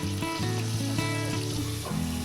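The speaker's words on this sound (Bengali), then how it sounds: "দিয়ে এরকম করে সব কটা বেগুন আস্তে আস্তে ভেজে নিচ্ছি" Eggplant slices frying in oil in a pan, a dense continuous sizzle and bubbling heard close up for a couple of seconds with no voices.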